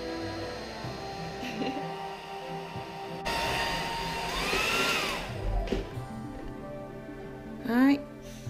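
A hair dryer blows a steady whirring rush while drying a small wet chihuahua after a shower, close by and moderately loud, with a person talking softly over it.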